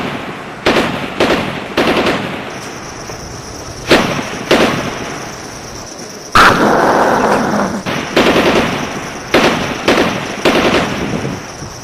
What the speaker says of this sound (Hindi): लाइन ऑफ कंट्रोल पर एक बार फिर भारत ने बिला इश्ताल फायरिंग कर दी